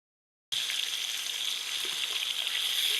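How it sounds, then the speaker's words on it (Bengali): Potatoes fry in hot oil with a steady, close, bright sizzle that starts abruptly and holds evenly throughout, with no voices. "এবার আলুগুলো লাল করে ভেজে নেব"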